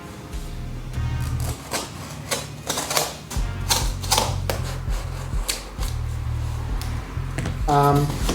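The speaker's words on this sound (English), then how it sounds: "we've got to attack these two pieces of tape." Packing tape being peeled and torn off the box of a Comandante C40 Black hand coffee grinder, a close series of crackly ripping bursts and rustles with a brief tonal squeak near the end.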